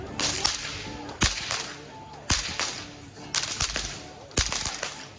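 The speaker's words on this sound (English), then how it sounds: "A little double whip cracking demonstration for you right now" A performer at a live whip cracking show cracks two whips in a double demonstration, giving a steady run of sharp, loud cracks about once a second, with crowd noise and voices underneath.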